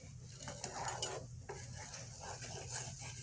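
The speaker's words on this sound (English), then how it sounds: "Then you stir." A spoon stirs broth as it comes to a boil in a pot, giving soft scraping and bubbling with a few clinks against the pot, quiet and close, with no talk.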